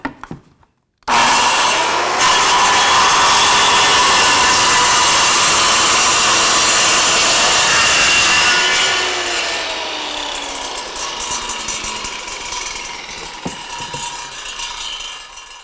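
A power saw cuts through wood boards for a drop-front desk in one long, loud continuous pass after a brief silence, then the blade winds down and runs quieter near the end.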